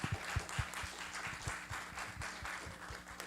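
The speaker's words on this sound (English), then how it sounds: "can we give Gavin a round of applause?" An audience at a community meeting gives Gavin a round of applause, a moderate crowd clapping steadily with a few sharper nearby claps standing out.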